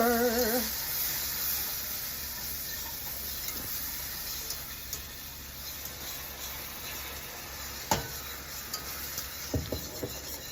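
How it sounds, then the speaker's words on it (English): A whisk scrapes and stirs rapidly in a pan of sauce, with faint sizzling and occasional clinks against the metal. "I'm going to use a whisk."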